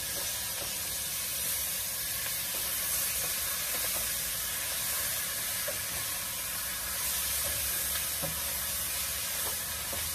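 Sausages with their casings left on, sizzling in a hot pan on a stovetop, a steady loud frying hiss with faint crackles and pops throughout and no talking.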